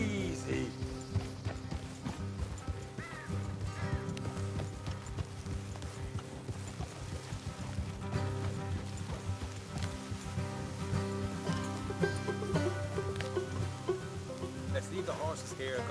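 Horse hooves clip-clopping in Red Dead Redemption 2, a steady galloping rhythm on a dirt road with game music and ambience beneath, and voices talking over the hoofbeats.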